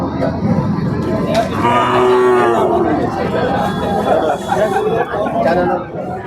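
Calves bawl with drawn-out moos over a busy crowd, people chattering and talking loudly all around, at the T. Narasipur cattle market near Mysore.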